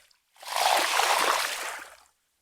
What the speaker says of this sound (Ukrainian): течія тут доволі таки непогана гарна течія